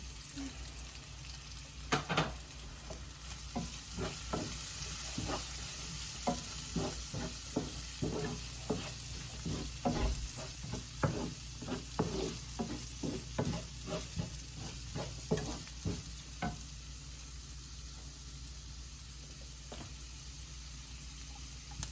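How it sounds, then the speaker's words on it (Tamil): Spices and turmeric sizzle in hot oil while tempering in a pan alongside green chillies, a soft steady frying hiss broken by repeated stirring scrapes and crackles. "தாளிக்கிற நேரத்திலே நான் சொன்ன மஞ்சளை போடலாம்."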